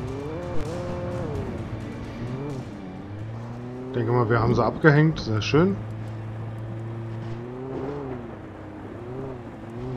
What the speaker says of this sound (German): Das Auto fährt natürlich richtig kacke.